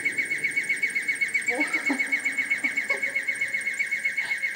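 An ancient Greek water alarm clock, driven by water between vessels, gives a steady high-pitched warbling whistle repeating in a fast, even pulse, birdlike and continuous, with a few faint low voices underneath.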